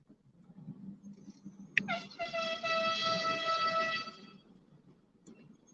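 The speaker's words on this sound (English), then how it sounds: "honk, honk, honk, honk, honk" A loud vehicle horn blares for about two seconds during a road convoy, preceded by a sharp onset and set against a low, rumbling road background.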